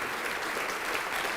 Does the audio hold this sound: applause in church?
yes